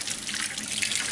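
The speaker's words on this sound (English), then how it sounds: "Next thing you want to do is rinse your miniatures. Again, you want to use kind of a lukewarm water here." Lukewarm tap water runs steadily into a sink while miniatures are rinsed, a close, continuous bright splashing hiss with no speech.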